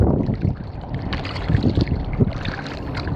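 Steady breeze gusting over the microphone while kayaking on Old Tampa Bay in a half-foot chop, a loud rough rush of wind with faint water splashing and no talking.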